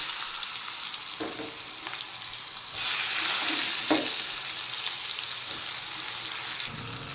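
Chopped onions fry in hot oil in a pan during Bengali home cooking, after crab has been taken out, giving a steady close sizzle with a few soft stirring knocks.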